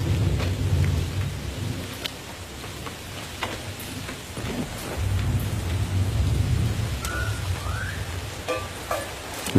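A hailstorm with rain and rolling thunder in a film scene, a dense steady wash of rain and hail punctuated by deep low rumbles and sharp impacts, with no voices.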